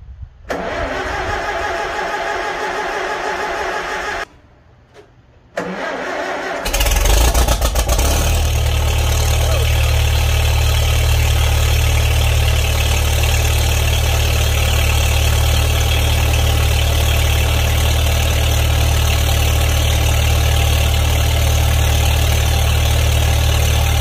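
A Farmall M tractor engine cranks and coughs, falls briefly quiet, then catches and settles into a loud, steady idle that runs on unbroken to the end.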